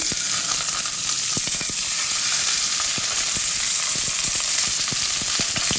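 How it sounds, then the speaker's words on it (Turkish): Meat sears in olive oil in a hot pan, a loud, continuous sizzle with scattered pops and crackles throughout. "önce etlerimi mühürleyerek başlıyorum"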